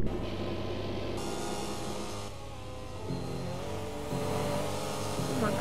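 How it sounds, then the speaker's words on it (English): Car engine revving in the Roblox game Driving Empire, a loud, steady motor drone whose pitch climbs and shifts in stepped surges, with gear-like changes throughout. "Oh my God, what is that engine?"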